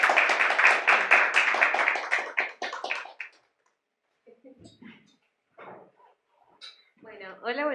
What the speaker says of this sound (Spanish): Pido palmas para ellas, por favor